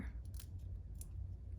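A paper punch clicks through a circle tag, giving a few sharp close snaps and crunches over a low rumbling background.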